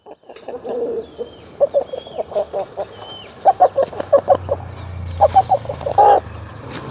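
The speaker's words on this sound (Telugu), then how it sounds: "ఈ పుంజు" A young rooster, six or seven months old and offered for sale, gives a series of short, rhythmic clucks in loud bursts close by, with brief gaps between groups.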